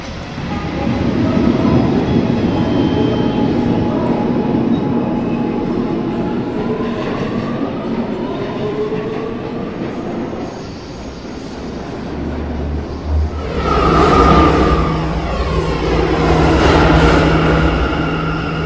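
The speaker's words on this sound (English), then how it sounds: "This is a Brooklyn-bound A express train" An A express subway train in a Roblox game pulls away from the station. A steady rolling rumble carries through, then louder wheel and rail clatter swells near the end. No one speaks.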